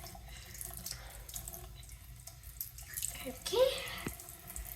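Water runs from a tap while teeth and mouth are rinsed during brushing, a soft steady flow that swells louder near the end, with a brief spoken word over it.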